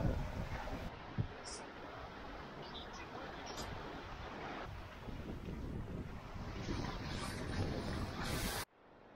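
A sailboat running downwind at seven knots in 25 to 26 knots of wind on the Atlantic: strong gusts buffet the microphone over a continuous rush of water along the hull, ending abruptly.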